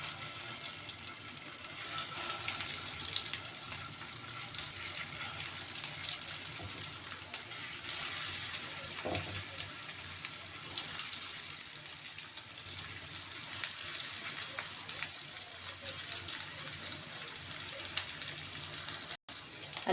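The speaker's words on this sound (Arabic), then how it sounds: "في طاسه هنا كده حطيت فيها شويه زيت صغيرين خالص يعني، بس نعديها بس ايه زي تشويحه كده من الجنبين" Potato pieces fry in a pan with a very small amount of oil, giving a steady, fairly quiet hiss and sizzle that continues without pause and without speech.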